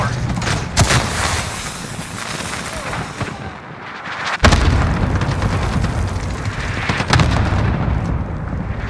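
A grenade detonates in Call of Duty: Modern Warfare, a loud booming blast amid ongoing gunfire and explosions, with another sharp burst partway through the busy battle din.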